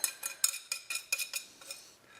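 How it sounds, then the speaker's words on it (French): Muffin batter is stirred in a bowl with a utensil, giving about a dozen quick, close clinks and scrapes against the bowl in a steady rhythm that trails off, with no talk. "Donc voilà, et on vient mélanger"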